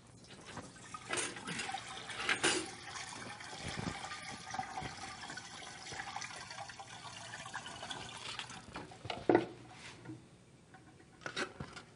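Liquid poured into a machine with a closed gate while a fresh recipe using zest and sugar is made, a continuous soft splashing and trickling with a few louder sloshes, faint and steady throughout.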